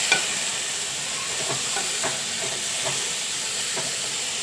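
Pods sauté in a hot pan, giving a continuous hissing sizzle with soft, irregular stirring scrapes throughout.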